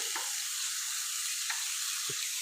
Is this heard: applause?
no